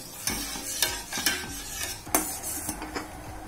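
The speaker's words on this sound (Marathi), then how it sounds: "आता आपण पाक करताना साखर विरघळेपर्यंत सारखं हलवत राहूया" Sugar syrup being stirred in a pan with a spoon until the sugar dissolves, a steady scraping swirl broken by several sharp clinks of metal against the pan, close and fairly quiet with no voices.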